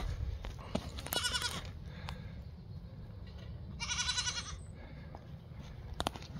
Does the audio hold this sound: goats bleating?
yes